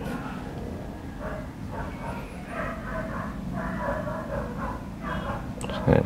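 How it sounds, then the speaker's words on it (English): Dogs bark repeatedly in the background of an indoor acrylic landscape painting session, their yips and woofs fairly loud and steady throughout, with a sharp burst near the end. "Sorry about the dogs, everyone."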